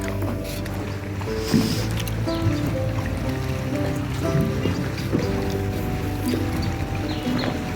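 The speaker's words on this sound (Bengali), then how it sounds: "চারপাশে জলের আওয়াজ শুধু" Water lapping around a moored WBTDCL houseboat on the river at Barrackpore: a steady, low wash with soft splashes and trickles, fairly close, under a constant hum, with no voices.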